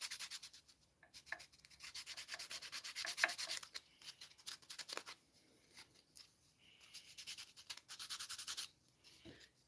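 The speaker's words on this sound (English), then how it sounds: "So I'm just sanding the edges to get some of that char off." Quiet, close scratchy rubbing of sandpaper on the charred edges of laser-cut wood in short irregular strokes, with brief pauses between bursts.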